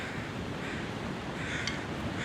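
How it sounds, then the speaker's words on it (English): Strong wind sweeping across a high mountain in the survival video game The Long Dark, a steady roaring gust that stays loud throughout with a slight swell near the end and no talking. "the wind is very strong here."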